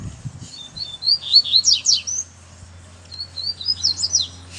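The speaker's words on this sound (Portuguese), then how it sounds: "Passarinho sobe pra dar canto" A free-flying coleiro (double-collared seedeater) sings two bright, quick phrases of high, whistled chirps, close and clear over a faint low background hum.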